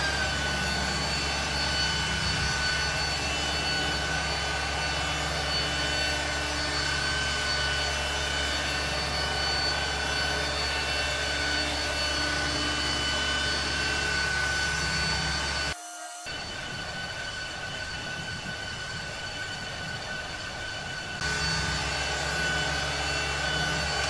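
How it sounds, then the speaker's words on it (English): Loud, continuous whine and drone of a rotary polisher making a cutting pass at speed 3, steady for about sixteen seconds, then a brief drop-out and a quieter, rougher stretch of running. "Stage 1, step 1, rotary cutting pass. That's speed 3."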